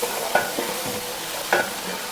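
Garlic paste and dal frying in oil in a pan and being stirred, close and loud sizzling with two sharp scraping strokes of a spoon against the pan, no talking.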